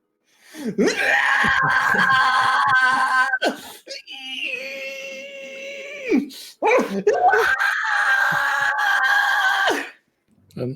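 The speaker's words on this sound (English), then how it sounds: "so you guys hear all this screaming" During a tabletop game session, long sustained shrill screams play in three drawn-out bursts separated by short gaps and gasps, loud and close with no talking over them.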